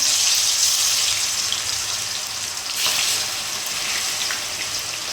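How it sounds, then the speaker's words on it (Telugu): Chicken marinated with salt and turmeric fries in hot oil, a dense, continuous hiss and crackle of sizzling close up, steady throughout with no speech. "ఇప్పుడైతే ఉప్పు పసుపు కలిపి పెట్టిన చికెన్ ఫ్రై అయితే చేసేసుకుందాం"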